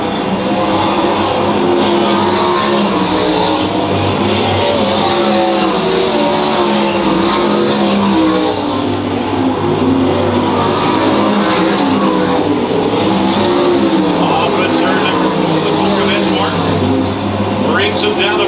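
ASCS Warrior sprint cars racing in a B feature at Lakeside Speedway, engines roaring continuously at close range for the whole stretch, rising and falling as the field laps, under steady race commentary.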